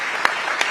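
Brief dense burst of crowd applause at an awards event, steady clapping lasting under a second.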